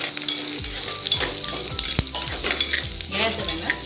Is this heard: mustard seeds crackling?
yes